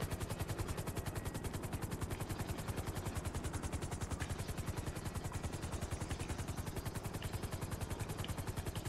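A helicopter in GTA Online thrums with fast, dense rotor chops, loud and steady throughout, with no talking.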